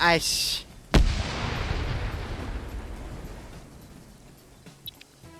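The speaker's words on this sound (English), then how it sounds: "there's Op 4 throwing grenades into this compound" A grenade blast in a multiplayer PvP shooter, set off as grenades are thrown into a compound: a sharp boom near the one-second mark followed by a long rumbling decay, with an earlier burst of noise and faint game sounds trailing off.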